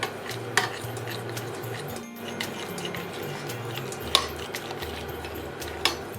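Whipping cream stirred into melted chocolate for ganache, soft close spoon-against-bowl scraping with a few light clinks, quiet and steady, no voices.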